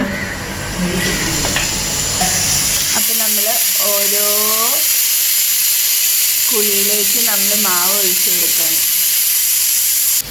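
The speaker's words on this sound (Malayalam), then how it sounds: "നമ്മൾ ചൂടായ ചട്ടിയിലേക്ക് എണ്ണയൊക്കെ ഒഴിച്ചു കേട്ടോ എണ്ണയും ചൂടായിട്ടുണ്ട്" A steady hiss of hot oil sizzling in an unniappam pan runs throughout, loud and close, while a person talks over it in short phrases.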